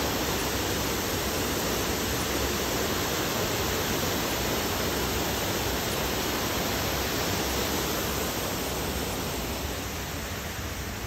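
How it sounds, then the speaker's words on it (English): A waterfall at Disney's Animal Kingdom gives off a steady, broad rushing roar that holds evenly throughout, with no voices over it. "I see a pretty waterfall."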